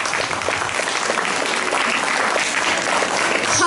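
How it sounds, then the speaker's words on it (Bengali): Audience applauding child dancers at a Bengali dance drama performance, dense, steady clapping from a crowd that fills the whole stretch, fairly loud and unbroken. "একবার জোরে হাততালি।"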